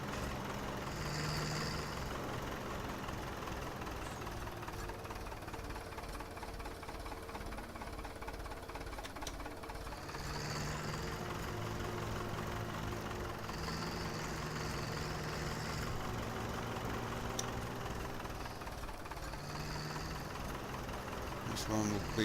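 A loader tractor's engine idles steadily throughout, a low continuous rumble with a faint knocking texture, close by, while people talk over it.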